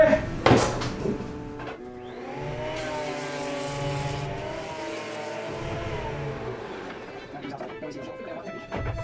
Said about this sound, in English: I'll plane another 2x4 quickly.